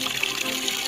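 Water runs steadily from a household tap at a public water supply connection, a continuous broadband hiss close by with no talk over it.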